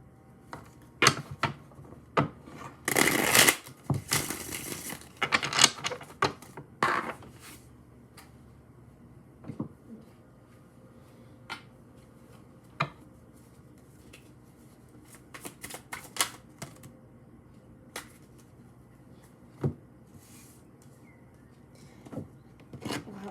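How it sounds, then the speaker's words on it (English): Tarot cards shuffled by hand in a quiet room: a dense, loud riffling burst early on, then scattered soft card taps and slides at irregular intervals, with no talking. "I'll shuffle these cards so much."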